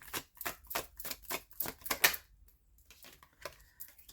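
Tarot cards are shuffled by hand between readings, giving a quick run of crisp, rhythmic riffling bursts that trail off into a few quieter flutters, close and fairly faint.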